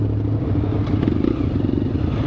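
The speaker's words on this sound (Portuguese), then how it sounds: "Todo tipo de moto aqui." Motorcycles idle and rumble close by at a riders' meetup in João Pessoa, a dense continuous low engine drone with light clatter and no speech.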